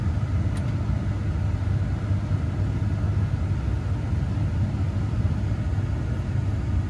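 Blower fan of a 2003–2006 Chevy/GM heater and AC system pushing air hard, a steady broadband whoosh with low rumble that stays constant and close, with no talking.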